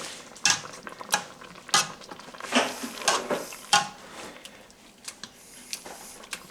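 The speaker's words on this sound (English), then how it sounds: "I took this potato masher, mash them up. So you just keep mashing them" Hot peppers mashed with a potato masher in a cooking pot for hot pepper jelly: irregular close clacks, knocks and wet squelchy thuds at an uneven rhythm, with no talking.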